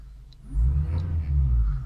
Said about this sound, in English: Now if I press this, I'm hoping the engine's going to rev up